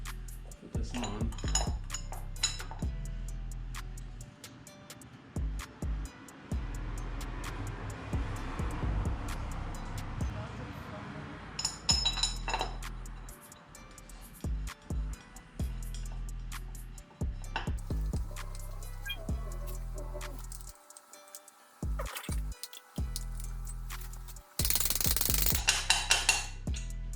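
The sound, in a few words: removing oil filter housing from 1JZ engine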